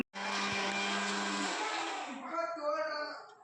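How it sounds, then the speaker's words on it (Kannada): A mixer grinder whirs steadily as it grinds roasted coconut, loud and close for about three seconds before the pitch shifts and the motor winds toward a stop. "ಇದು ಮಿಕ್ಸಿ ಮಾಡ್ಕೋಬೇಕು."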